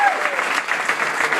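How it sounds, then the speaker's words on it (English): An audience claps together at a community event in Kennett Square, a dense, steady round of applause that lasts throughout with no talking over it. "Let's clap it up for her for letting us have these events here"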